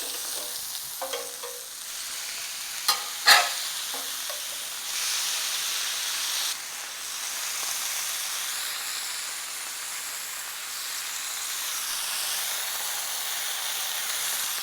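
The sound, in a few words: burgers with feta cheese cooking in hot pan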